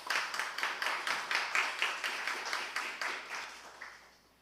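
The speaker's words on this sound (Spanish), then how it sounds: "Un aplauso, por favor" Applause for guests of honor at a formal ceremony, steady rhythmic clapping from an audience that fades out toward the end.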